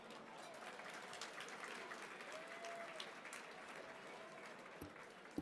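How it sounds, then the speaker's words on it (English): Faint, distant applause from an audience at an anniversary landmarks celebration evening event, a steady patter of clapping lasting several seconds with a couple of sharper knocks near the end. "That's one way to get a round of applause."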